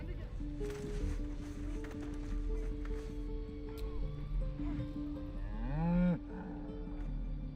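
A cow in Baldur's Gate 3 lets out a drawn-out moo with a rising and falling pitch near the end, over soft tonal background sounds.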